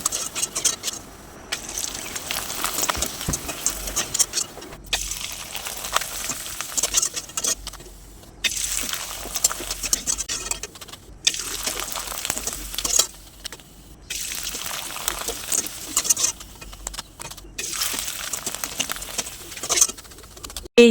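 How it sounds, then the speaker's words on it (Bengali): Thin chips made from boiled rice flour fry in oil over medium-low heat, producing a continuous bubbling sizzle with hissing surges and brief lulls throughout. "এখন আমি ভেজে দেখিয়ে দিচ্ছি।"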